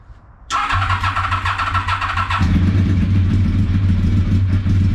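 A motorcycle that had sat unused for months starts up in a shed, a brief cranking catch followed by a loud, close, steady idle that settles into a deeper, rougher run.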